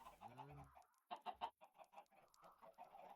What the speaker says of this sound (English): Alright, got a chicken right there.